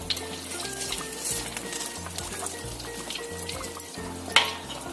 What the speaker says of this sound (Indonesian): Kita masukkan ke dalam minyak panas.